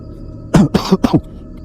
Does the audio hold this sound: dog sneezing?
no